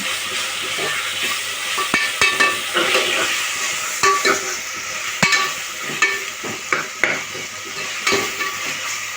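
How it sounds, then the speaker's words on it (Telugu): Tomato frying in a pan for mutton liver curry, a steady loud sizzle with occasional spatula scrapes and taps against the pan. "ఇదిగోండి, టమాటా వేస్తున్నాను, ఒక టమాటా కూడా మెత్తబడేంత వరకు కూడా వేయించుకొని"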